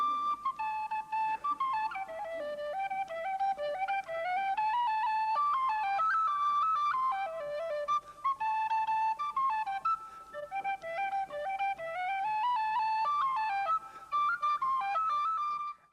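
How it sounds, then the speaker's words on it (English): A musician plays a lively traditional melody on tin whistle, clear, bright notes running in quick rhythmic phrases, solo and close, with brief pauses between phrases. "open your ears to some incredible tin whistle sounds"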